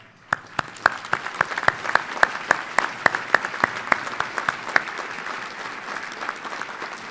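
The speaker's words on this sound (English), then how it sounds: "give them a round of applause" Audience applause at an Urban League speech, a broad patter of clapping with sharp individual claps standing out in an irregular rhythm, steady and moderately loud throughout.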